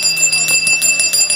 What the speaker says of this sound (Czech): Pojďte za zvonkem.